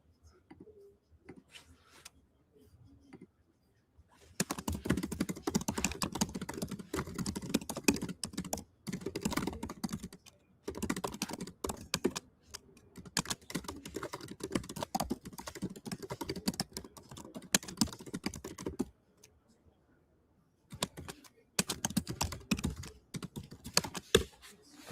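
Fast, continuous tapping of a computer keyboard close to the microphone, in long runs broken by brief pauses, with faint whispery voice sounds in the background.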